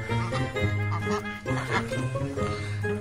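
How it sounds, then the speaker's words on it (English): Poultry cluck and quack together close by in a busy, overlapping chorus, a mix of chickens and ducks calling continuously. "Help my wife here with the chickens and ducks"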